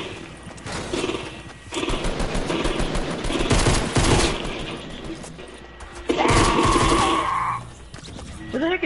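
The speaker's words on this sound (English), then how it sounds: "Somebody's shooting at you." Rapid bursts of gunfire in the video game Fortnite, loud and dense, with sharp impacts and crashes through a sniper shootout, repeated over several seconds.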